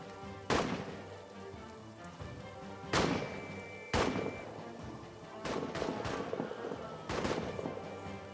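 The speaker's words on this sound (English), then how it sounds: "Got to keep those bullets flying." Rifle and artillery gunfire from the World War I trench game All Quiet in the Trenches: loud sharp shots crack out irregularly, a few close together, each trailing into a rumbling echo over a low battlefield background.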